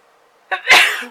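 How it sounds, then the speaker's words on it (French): A single loud, close sneeze: a short sharp intake followed by an explosive burst, alone with no talking. "J'ai éternué dans mon coude."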